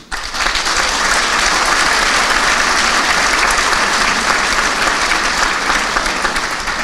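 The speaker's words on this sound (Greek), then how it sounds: "Και γι' αυτό θεωρώ ότι αξίζει το χειροκρότημά μας." Steady, dense applause from a civic audience fills the whole stretch, loud and continuous with no voices on top.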